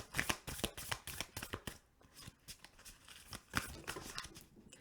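Tarot cards shuffled by hand in quick riffling bursts, a close, fairly quiet run of crisp flicks and slaps with short pauses between.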